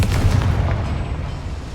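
A Confringo fire spell bursts in a Hogwarts Legacy mine, one loud, deep, close explosion that booms and rumbles away over under two seconds.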